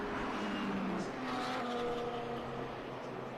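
A vintage race car, Greg Biffle's 3M car, drives past at a road course, its engine drone rising and fading with shifting tones, fairly distant under the general track noise.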